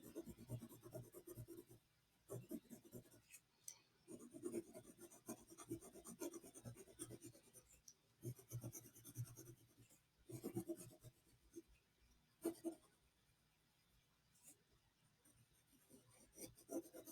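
Graphite pencil shading and blending on paper, with repeated soft raspy strokes in irregular bursts and short pauses, close and quiet.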